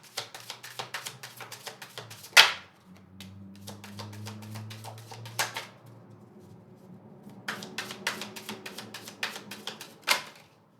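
Tarot cards being handled and drawn, giving brisk clicky flicks and shuffles in quick bursts, with one sharper slap partway through and quieter pauses between, close and without speech.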